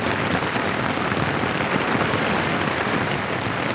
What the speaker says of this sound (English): So the rain's here.